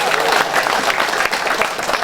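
Brief, loud, dense applause from a crowd at an Isra Miraj religious lecture, steady clapping filling the whole moment with a possible voice mixed in.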